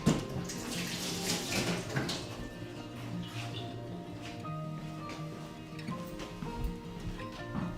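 Tap water runs into a sink while an ingredient for a sauce is rinsed, a steady close splashing flow with slight shifts as the item moves under the stream.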